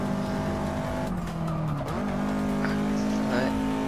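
Race car in Forza Motorsport 6 skidding, a loud engine drone with tires squealing as the revs dip and climb back, continuous and close, with game sounds in the background.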